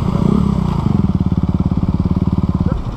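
A motorcycle engine running roughly on a dirt rally route between São Miguel do Gostoso and Galinhos, loud and close, stuttering then falling into a rapid uneven putter of chugging pulses that fades slightly near the end.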